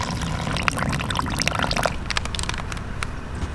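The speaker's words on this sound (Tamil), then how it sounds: "இப்போ மாவு பிணையிறதுக்கான தண்ணியை ஊற்றி மாவை பிணைஞ்சி வச்சுருவோம்." Water poured into flour for vegetarian chocolate doughnut dough, heard as a steady close pour with wet squishy mixing noise and small splashes running throughout, no talking.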